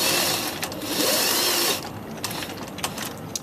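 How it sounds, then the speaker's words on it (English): A home sewing machine edge-stitches a pleated fabric mask, a fast whirring run for under two seconds, then stopping into quieter handling clicks and small taps. "do a nice little machine edge stitch"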